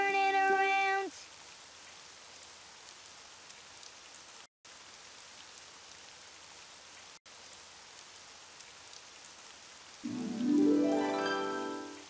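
Steady rain patters outside at a moderate, even level throughout, with a couple of brief cuts and some tonal noise at the start and end.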